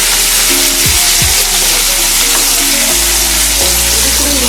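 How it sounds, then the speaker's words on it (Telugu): Onions and green chillies sizzle steadily in hot oil with ginger-garlic paste for a capsicum masala curry, a spoon scraping and stirring through the pan in a few distinct strokes, close and continuous with no talking. "ఇప్పుడు మనం ఇందులోకి కొద్దిగా అల్లం వెల్లుల్లి పేస్ట్ యాడ్ చేసుకుందాం దాన్ని బాగా మిక్స్ చేసుకోండి"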